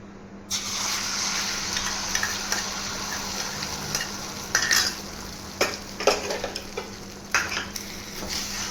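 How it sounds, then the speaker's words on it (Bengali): Three eggs seasoned with salt and pepper sizzle in a hot pan as they are scrambled, a constant bright frying hiss punctuated by several spatula scrapes and knocks. "এবার আমি 3টে ডিম যে নুন আর গোলমরিচের সঙ্গে মাছ মিশিয়ে রেখেছিলাম ওইটাকে ভেজে নেব।"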